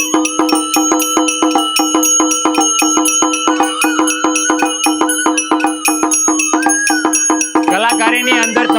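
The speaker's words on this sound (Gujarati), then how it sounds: "આ ઝાલરનો અવાજ" A jhalar bell rings from an electric aarti machine with rapid, evenly repeated metallic strikes, loud and close throughout, joined near the end by a brief warbling electronic tone.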